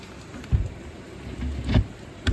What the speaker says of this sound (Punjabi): ਤਕਰੀਬਨ ਹੁਣ ਸਾਰੇ ਕਿਤੇ ਮੀਂਹ ਆਏ ਰਿਹਾ